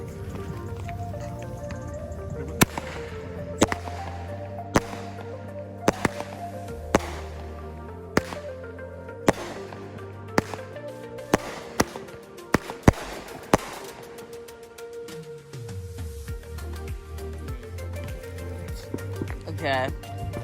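Backyard fireworks and bottle rockets go off in a string of sharp pops and cracks, several sudden bangs spaced over the scene, with people talking throughout.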